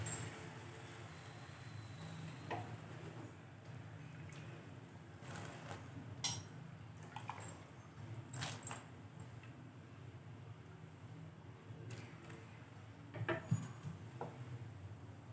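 Soaked sago is stirred into milk boiling in a pot: a quiet, steady burble with sparse, faint spoon clinks and scrapes against the metal, and no talking.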